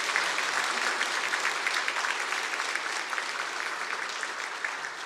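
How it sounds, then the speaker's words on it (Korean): A congregation at a Sunday church service claps steadily for several seconds. The applause is even and fairly soft, heard across a large room, with no talk over it. "박수 한번 크게 해주시겠습니까"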